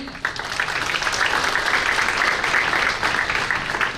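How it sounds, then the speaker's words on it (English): A crowd claps steadily for a welcomed guest at a Hmong American caucus kick-off event, a dense, even patter that fills the whole stretch without a break. "Let's give a round of applause to Danny."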